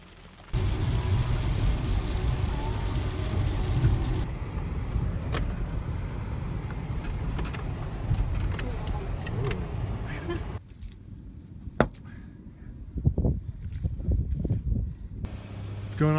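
A car driving on a beautiful afternoon, a steady close engine and road rumble running throughout, shifting to a lighter tone partway through with a few knocks and clicks near the end.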